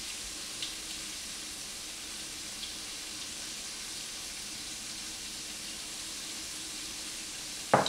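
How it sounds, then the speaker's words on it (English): A cup of heavy whipped cream simmers in a small saucepan, giving a steady, quiet hiss and faint bubbling throughout, with a brief louder knock at the very end. "In the little saucepan behind it, I have 1 cup of heavy whipped cream that's been simmering"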